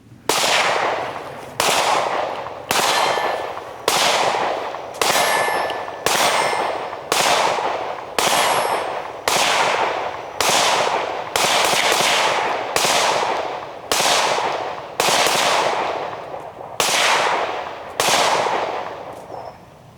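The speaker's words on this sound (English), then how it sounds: "You're gonna be able to tell the difference because he really be shooting the FN." FN Five-seveN pistol firing 5.7x28mm rounds on a shooting range, about fifteen loud, sharp shots at a steady pace of roughly one every 1.3 seconds, each with a ringing tail and faint metallic clinks, with no talking.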